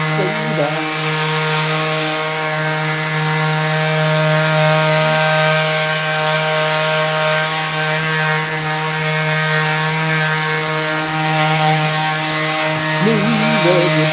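A power sander works over wooden boards being prepared for egg holders, a loud, steady droning whine that runs continuously at close range.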